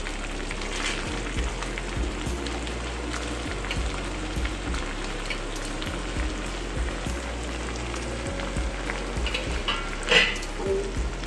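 Cumin, coriander, turmeric and sugar frying in hot oil with a bay leaf, giving a steady close sizzle with small crackles and one brief louder pop near the end.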